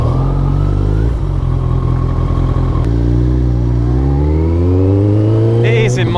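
Loud, close petrol motorcycle engine revving, its pitch climbing and dropping through several throttle blips, with a rumbling exhaust note and brief mechanical clatter.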